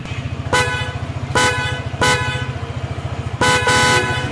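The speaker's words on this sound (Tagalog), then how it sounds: "testing din natin yung binili nating Blowpunk Horn S92 sa Lazada din" An aftermarket Blowpunk Horn S92 fitted to an ATR 160 motorcycle sounds four loud, close blasts over the bike's steady idling engine, each blast short and sharp.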